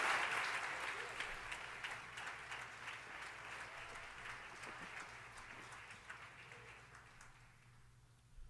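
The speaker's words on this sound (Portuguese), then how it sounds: "dê uma salva de palmas a Jesus" A church congregation applauds, a dense burst of clapping that starts strong and gradually fades away over several seconds, quiet and somewhat distant.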